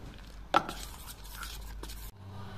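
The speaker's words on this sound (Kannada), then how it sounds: "ಈಗ ಇದನ್ನೆಲ್ಲ ಸ್ವಲ್ಪ ಮಿಕ್ಸ್ ಮಾಡಿಕೊಳ್ಳುವ" Adai dosa batter being mixed with grated coconut in a bowl, giving one sharp utensil knock followed by soft, steady scraping and stirring that stops abruptly, leaving a low hum.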